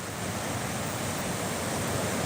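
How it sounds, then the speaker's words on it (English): Ocean waves break on a beach in a continuous, broad rushing roar, steady and loud throughout with no talking. "So these waves are pretty wild today."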